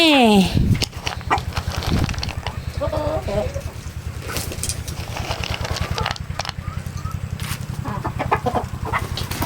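Chickens clucking outdoors at a rural village in the evening, with a steady low engine-like hum throughout and people talking nearby.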